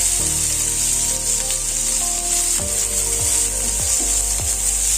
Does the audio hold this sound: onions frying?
yes